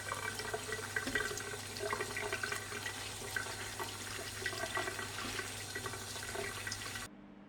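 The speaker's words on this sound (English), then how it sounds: "You should always wash your wild herbs very well." Tap water running steadily into a sink while wild herbs are washed, a continuous close splashing rush that cuts off abruptly near the end.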